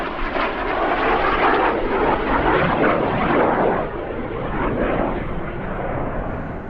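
An Aermacchi MB339 jet trainer flying at an airshow roars overhead, a loud sustained engine rush that swells and then slowly fades as it passes.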